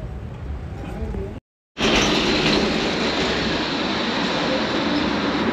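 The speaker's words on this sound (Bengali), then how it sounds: "এই হচ্ছে এখানকার ট্রাম।" A tram in Zagreb, Croatia, produces a loud, steady rumble of rail transport that cuts out briefly, then returns just as strong and continuous.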